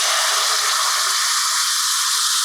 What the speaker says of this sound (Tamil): நல்லா கருவேப்பிலையை பொரிய விட்டுருங்க